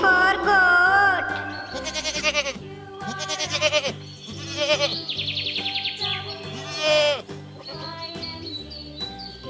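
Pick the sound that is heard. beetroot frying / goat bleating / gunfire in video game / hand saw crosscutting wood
goat bleating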